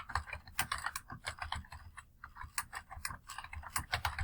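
Rapid typing on a computer keyboard, irregular bursts of close, crisp key clicks with short pauses between runs, quiet and alone without talk.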